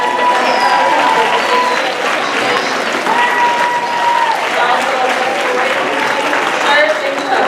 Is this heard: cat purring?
no